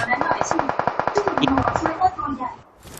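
Rapid automatic gunfire in the battle royale game PUBG Mobile, a fast regular burst of shots lasting about two seconds at moderate distance, heard beneath someone talking.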